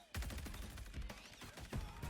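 Heavy gunfire from a big gun in a Call of Duty Vanguard multiplayer trailer, loud repeated booming bursts over a driving soundtrack, several sharp blasts spaced through the short stretch.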